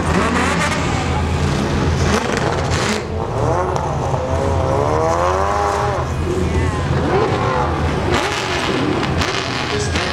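A Mazda Miata race car pulls away from the SEMA Show, its engine revving hard through rising and falling pitch sweeps and gear changes, loud and near, with tire noise and other traffic around.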